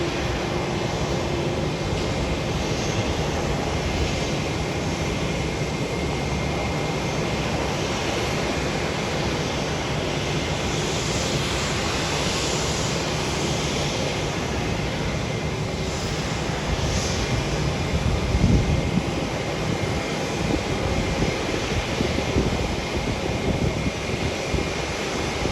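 Southwest Airlines jet engine starting up on the ground at Hollywood Burbank Airport, a steady broad roar with constant wind-like hiss throughout, loud and continuous with no talk.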